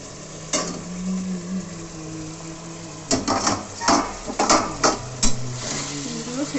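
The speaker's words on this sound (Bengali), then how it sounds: "এবার আমি ঢাকাটা খুলছি।" A metal lid comes off a cooking pot of simmering white beans with a cluster of sharp clinks and scrapes, after a few seconds of a low bubbling simmer with a single earlier clank.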